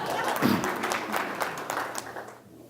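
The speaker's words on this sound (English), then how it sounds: "That's okay, keep on applauding." Steady crowd applause rolls on at a retirement-themed event, a dense patter of clapping that tapers off toward the end.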